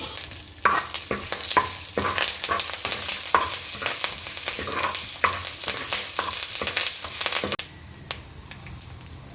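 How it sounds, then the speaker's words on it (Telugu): Curry leaves fry in a pan with crackling pops over a steady sizzle, and repeated scrapes of stirring come through close and loud. Near the end the sizzle drops to a quieter hiss. "అన్నీ మంచి రంగు వచ్చేలా వేపుకుంటున్నాను కరివేపాకు వేసి వేస్తున్నాను"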